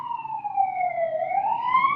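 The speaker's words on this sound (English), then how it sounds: "I'm gonna wait for that siren to pass." An emergency vehicle siren passes outside, its steady wailing tone sliding down and then back up, moderately loud and continuous with no voices over it.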